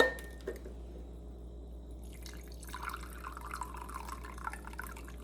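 Boiling water trickles and splashes into a cup after a brief clink, a steady liquid pour at close range with a faint background hum.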